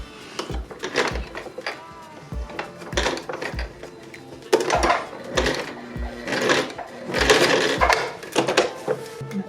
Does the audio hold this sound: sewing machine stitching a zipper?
yes